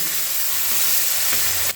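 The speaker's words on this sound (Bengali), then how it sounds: "কাজু আর আমানটা হালকা ভাজা ভাজা করে নিয়েছি এবার দিয়ে দিচ্ছি এর মধ্যে একটু কিশমিশ এটাকেও মিশিয়ে নিয়ে একটু ভাজা ভাজা করে নিচ্ছি" Cashews, almonds and raisins fry in ghee with a dense, even crackling sizzle, a brief stirring scrape near the end.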